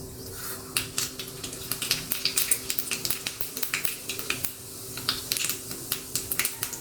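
Mustard seeds and cumin crackling in hot oil for a tempering: rapid, irregular sharp pops and snaps, close and fairly loud, bursting in quick clusters over a faint background hiss.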